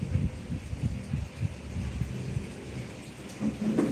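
Rain falls during a live motovlog stream, a soft steady patter with low rumbling thumps underneath, fairly faint and close, with no voices.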